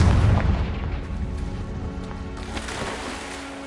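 Confringo fire spell blast in the video game Hogwarts Legacy: a loud boom at the start that decays into a rumbling, crackling tail, with a smaller burst partway through.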